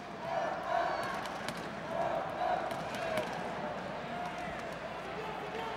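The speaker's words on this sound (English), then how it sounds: "We've got some sort of cheering section behind us for the German." Cheering section at the 2013 Judo World Championships in Rio backing a German judoka, a steady roar of arena crowd noise with swelling bursts of support beneath continuous commentary.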